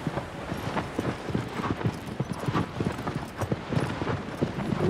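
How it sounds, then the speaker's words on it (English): Hooves of a galloping horse clip-clop in a fast, steady rhythm through the video game Shadow of the Colossus, close and continuous with no voices over them. "let's go, buddy. I love this horse."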